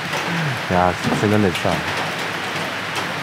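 Rain falls steadily in a stream valley in Langkawi as a constant hiss on surfaces, with someone speaking briefly over it.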